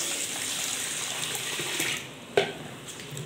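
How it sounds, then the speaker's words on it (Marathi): Ration rice being washed by hand in water inside a kadai: a steady close sloshing and swishing of water with one sharp clink of grains or a hand against the metal pan near the end. "आता इथं मी एका कढईमध्ये घालून स्वच्छ असे हे तांदूळ आहे ते धुवून घेणार आहे।"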